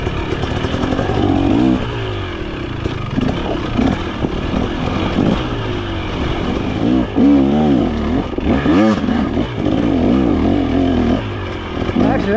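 A 2023 KTM 300XC fuel-injected two-stroke dirt bike ridden down long trail descents at Peach Valley, its engine burbling and rising in short throttle blips, close and loud, with rattling and clatter from the rough ground throughout.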